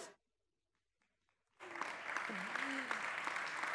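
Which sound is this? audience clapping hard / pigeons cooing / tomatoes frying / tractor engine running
audience clapping hard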